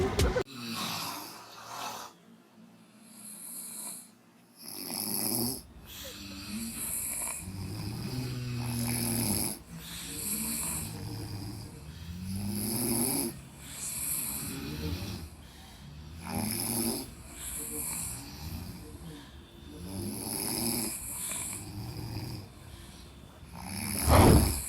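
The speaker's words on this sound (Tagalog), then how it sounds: "mahabang gabi na puro hilik lang ang naririnig" Loud, rhythmic snoring from sleepers at night in a hotel room, repeating breath after breath in long rasping cycles with heavy inhales and snorts, close and steady throughout.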